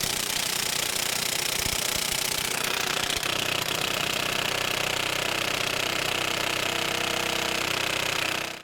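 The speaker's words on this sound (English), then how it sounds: "So I opt for a beefy impact and a beefy impact socket." A heavy impact wrench hammers continuously and loudly at the crankshaft bolt of a 2007-2013 Acura MDX, a harsh rapid rattle sustained for about eight seconds before stopping.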